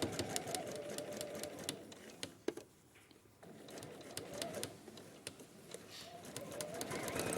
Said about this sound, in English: I'm going to sew that on in exactly the same way